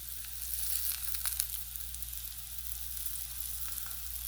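Brussels sprouts sautéing in a pan give a steady, close sizzle of frying with a few faint scrapes and clicks, no voices.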